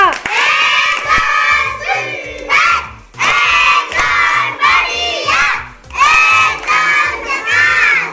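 Schoolchildren in a classroom cheering and clapping in unison for a first-grade classmate who solved a stick puzzle, loud rhythmic chanting bursts with short pauses between them.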